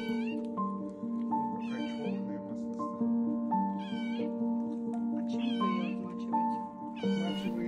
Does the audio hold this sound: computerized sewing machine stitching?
no